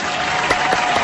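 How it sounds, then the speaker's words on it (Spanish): Applause from a small studio group during a live talk broadcast, a steady dense patter of hands with a few sharper claps standing out over about a second. "Aplausos, aplausos. Lo aplaudimos desde acá."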